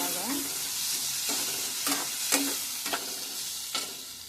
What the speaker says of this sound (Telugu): స్టవ్ సిమ్లో ఉంచుకొని బాగా కలుపుకోవాలి.